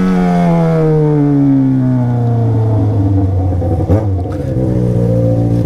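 A loud XJ6 motorcycle with only a bare exhaust pipe revs high, around 10,000 to 11,000 rpm, and holds, its pitch sliding slowly downward, with a brief sharper burst near the end.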